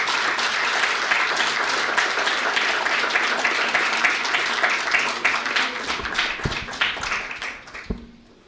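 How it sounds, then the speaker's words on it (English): A conference audience gives a long round of applause to close a session on neuroscience and compassion, dense clapping that thins toward the end into a few last scattered claps. "let's have a huge round of applause for this"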